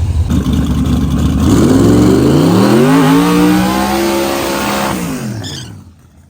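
A radial drag racing car engine revs hard close by, its pitch climbing, holding, then easing back down before cutting off abruptly at the end, loud and alone with no talk.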